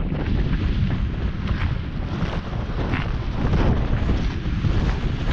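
Strong freezing wind blasting across open lake ice during winter fishing, a loud, constant roar buffeting the microphone without letup.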